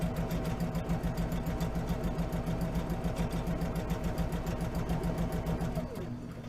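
Sewing machine stitching the lining seam of a tote bag, a steady rapid mechanical whirr with a fast regular needle rhythm that runs throughout and slows slightly at the end.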